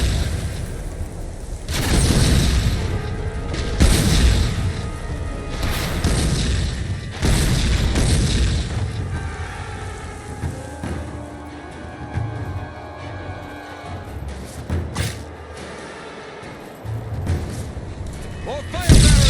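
Fire barrels explode in the Lord of the Rings: War in the North video game. A series of heavy booms and thuds comes in uneven bursts over a rumbling battle background, the blasts fading later on, with voices speaking at times.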